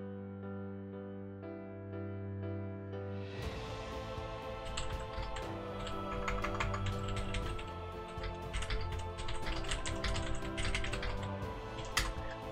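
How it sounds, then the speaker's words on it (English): Steady tapping on a computer keyboard, brisk irregular clicks that grow busier and louder partway through, heard over sustained background music with no talking. "keyboard might be too loud"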